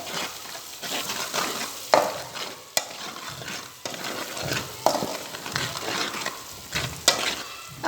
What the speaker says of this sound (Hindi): अब हम मसालों को 1-2 मिनट तक भून लेंगे